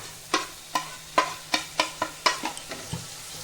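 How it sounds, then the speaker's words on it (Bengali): Green chilli and ginger paste frying with onion and garlic while a spoon strikes the pan in a steady series of about a dozen close, sharp scrapes over a faint sizzle, no voices. "পেঁয়াজ আর রসুনটা একটু ভাজা হয়ে গেছে, এটার মধ্যে আমি কাঁচা লঙ্কা আর আদা বাটা দিয়ে দিব।"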